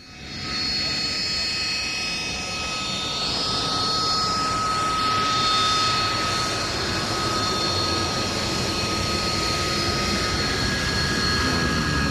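Harrier GR7 jet at the Duxford airshow: a loud, sustained jet roar with whining tones, steady as the aircraft hovers and passes, its pitch drifting slowly across the pass.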